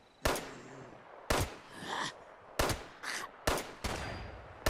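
Gunfire in the game Fallout 76: a series of sharp, loud shots in separate bursts, some single cracks and some short rapid volleys, with brief gaps between them and no talking.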